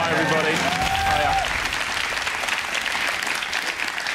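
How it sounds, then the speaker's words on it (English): Studio audience on a television quiz show applauding, a steady burst of clapping that fills the whole stretch, with a voice speaking briefly over the start. "We don't normally get applause after people's introductions, do we?"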